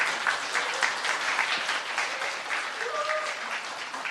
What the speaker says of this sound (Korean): 이게 박수 받을 일은 아닌 것 같은데